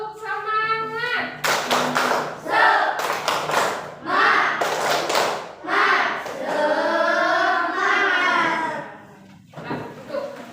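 A group of children claps in rhythm, repeated sharp clap bursts alternating with loud chanted children's voices, close and lively.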